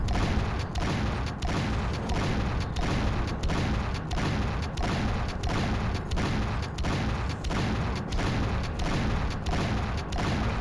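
In the Painkiller video game, gunfire bursts out in a fast regular rhythm of about a dozen sharp blasts over a dense, loud background of game effects.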